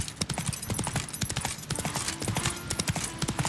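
Horses' hooves clip-clop in The Witcher 3, a steady, busy patter of hoofbeats close by that runs through the whole stretch with no talk over it.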